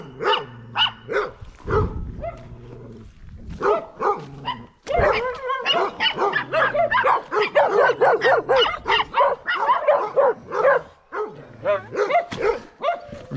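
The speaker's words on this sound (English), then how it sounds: "This little dog's got to bark." A small dog barks over and over in rapid, loud bursts close by, with only brief pauses, beside muddy ruins on a neighborhood cave outing in Sucre, Bolivia.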